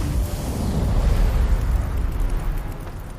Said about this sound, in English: Set fire to bushes.